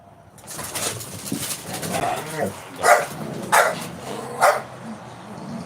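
Neighbouring dogs bark in the morning, a few sharp separate barks rising over a noisy outdoor background with faint birdsong and low murmuring voices.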